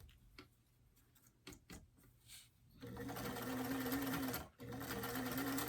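Sewing machine stitches a doll top sleeve in place, running steadily and close after a few seconds of quiet handling clicks, with one brief pause mid-run.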